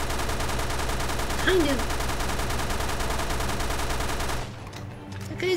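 Rapid submachine gun fire in Resident Evil rattles on steadily, loud and close, with a brief voice cutting in before the burst stops near the end.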